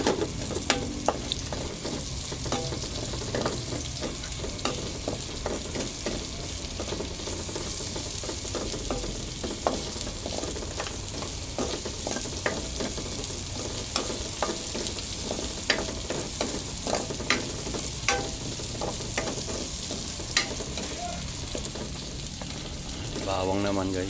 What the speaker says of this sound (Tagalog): Gigisa yung sibuyas at bawang.